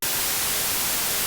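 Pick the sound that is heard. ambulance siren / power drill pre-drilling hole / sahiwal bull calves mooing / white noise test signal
white noise test signal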